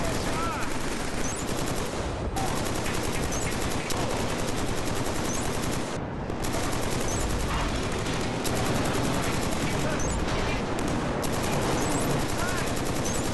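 Dense, continuous automatic gunfire from the video game Killzone 3 multiplayer hammers loudly and almost without pause, with rapid repeated shots and brief gaps.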